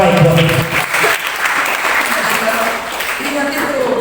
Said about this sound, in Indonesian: Berikan tepuk tangan yang terbaik buat kita.